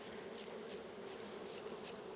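Honeybees hum at their hive while colonies are being merged, a steady, even buzz of many insects, fairly faint and continuous, with no voices.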